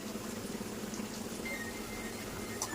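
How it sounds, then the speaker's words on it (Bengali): Onions fry in oil in a pan, a quiet, steady bubbling sizzle that runs unbroken and close by, with no voices. "আমি আগে পেঁয়াজটা ভেজে নিচ্ছি, আরেকটু ভেজে নেব পেঁয়াজ।"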